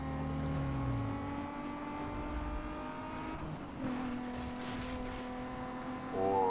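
A Toyota Supra's racing engine roars in Need for Speed Most Wanted, a steady sustained drone with shifting pitch, brief tire squeal and a rising rev near the end, loud and continuous.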